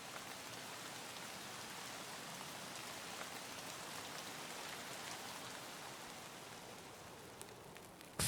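Steady rain falling in the video game Escape from Tarkov, an even hiss of drops pattering on surfaces, faint and constant, broken by a short louder knock at the very end.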